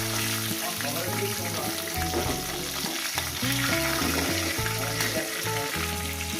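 Fish heads and tails fry in hot oil, giving a steady crackling sizzle that holds close and loud the whole time, with music playing over it.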